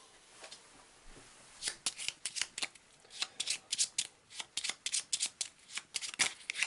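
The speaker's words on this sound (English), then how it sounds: "shuffled it in front of the camera" A deck of Eldritch Horror board game cards is shuffled up close, with quick bursts of crisp riffling flicks in an irregular rapid rhythm, loud against a quiet room with no talking.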